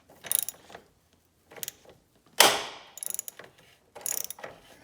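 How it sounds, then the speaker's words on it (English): A ratchet on an extension loosens a battery bolt on a 2018 Toyota Sequoia, giving close, crisp bursts of rapid clicking separated by short pauses, with one harsher grinding crack as it breaks free. "And we're going to use our extension. And a ratchet."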